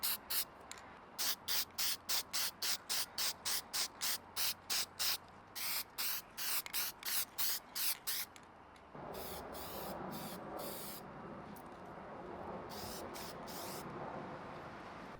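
Short rhythmic bursts of aerosol Plasti Dip spray coating Honda bumpers on a 2025 Honda, about a dozen quick hissing pulses, then a steadier, broader hiss of continuous spraying, close and loud with no talking.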